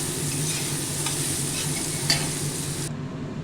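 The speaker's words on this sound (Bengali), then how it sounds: "বেগুনে অল্প করে নুন হলুদ দিয়ে দিলাম ভালো করে লাল করে ভেজে নেব" Eggplant pieces frying in oil with salt and turmeric, a close, even sizzle with stirring scrapes, ending abruptly.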